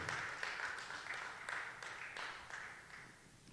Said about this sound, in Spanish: Ahí es donde tienes que darle un buen aplauso al Señor